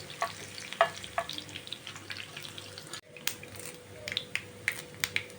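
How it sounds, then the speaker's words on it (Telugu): Three small dried red chillies fry in oil in a pan, a close steady sizzle broken by crisp popping crackles and an occasional stir, continuing evenly throughout with no speech. "ఎండుమిరపకాయలు 3 ఎరగ తీసుకున్న చిన్నవి. ఇవి కొంచెం వేగాలి."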